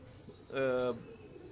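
One pigeon gives a single short, throaty coo inside a pigeon loft that was converted from a cage-bird aviary, close and distinct against a quiet background.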